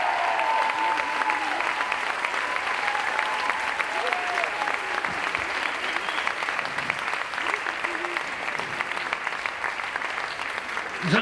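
Sustained audience applause for a dancer at a dance show, dense steady clapping from a large crowd lasting throughout, with some cheering mixed in.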